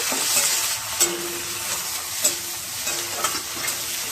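Garlic and ginger fry in hot oil in a pan for an egg and cauliflower curry, a bright continuous sizzle broken by spatula scrapes about once a second, close and fairly loud, with no talking.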